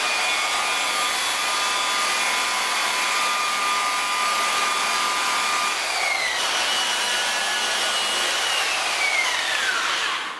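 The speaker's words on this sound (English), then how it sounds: "You want to use a variable speed buffer. I'm going to have this on about 1400 RPM." A variable speed buffer running at about 1400 RPM polishes car paint. It makes a loud continuous motor whir with a slight pitch shift partway through and runs alone without a pause.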